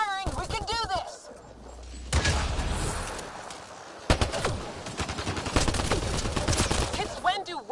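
Weapon fire in Mass Effect: Andromeda, rapid bursts of gunshots crackling through a chaotic firefight, with loud impacts and game voices shouting over the shooting.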